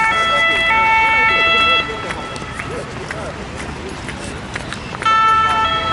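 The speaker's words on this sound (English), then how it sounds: "Ambulance" A loud ambulance siren wails in steady cycles near the Eiffel Tower in Paris, fading briefly mid-way then returning strong, with people talking and footsteps beneath it.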